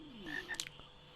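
A croaking frog in the video game Final Fantasy IX, heard as a short, clear croak with a couple of quick bursts, close and moderately loud over a quiet game background.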